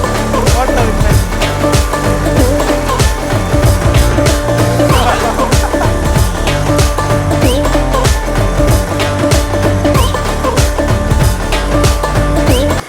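A homemade mini bike powered by a brush cutter engine is being ridden, its small motor giving a loud, continuous, buzzing drone with rapid revving pulses that hold steady throughout.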